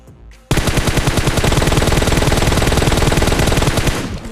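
Rapid automatic gunfire from the video game PUBG Mobile bursts in abruptly and continues as a loud, sustained stream of evenly spaced shots for almost four seconds before easing off.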